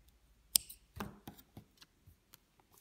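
Scissors snip through crochet yarn while finishing a small crocheted baby bodysuit, giving a sharp metallic cut followed by a few quiet clicks and handling taps in a quiet room.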